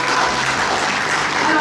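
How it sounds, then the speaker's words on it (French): Audience applause for Nicolas at a live Haitian quiz challenge, the adults' match. Dense, steady clapping fills the short moment at an even level, with some voices mixed in. "Et même Nicolas, vos applaudissements."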